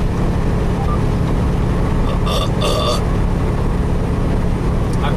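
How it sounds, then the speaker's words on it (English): A man burps out loud in a cold, freezing setting, one short rough belch rising above a steady low rumble of background noise. "I burp a lot."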